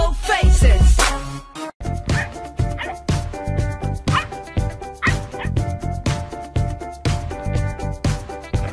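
Puppy yipping and whimpering in quick repeated bursts over steady rhythmic background music, fairly loud and close, with a few short pauses between cries.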